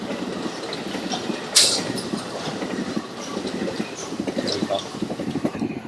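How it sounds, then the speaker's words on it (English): A train, the Centerville Express, rumbles past with steady clickety-clack of wheels and a brief squeal, loud and continuous, while people talk faintly nearby. "Oh, listen how loud the train"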